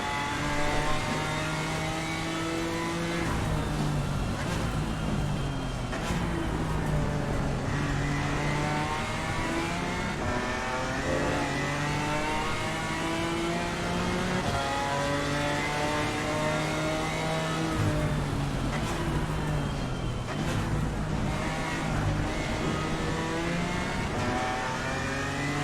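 Chevrolet GT4 race car in Assetto Corsa Competizione, lapping Bathurst in the rain: a loud, continuous engine note climbs and drops through gear changes for the whole stretch, with no talking over it.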